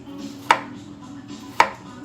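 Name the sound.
knife cutting chayote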